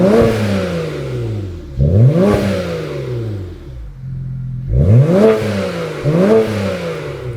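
A BMW with dual tailpipes is revved hard, captured right at the exhaust by the license plate: four loud, close throttle blips that rise sharply and fall away, with a steady idle rumble between them.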